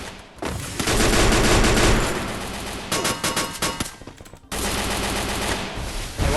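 Dense, loud video game gunfire with rapid automatic bursts and overlapping shots, dropping out briefly near the end before resuming at full intensity.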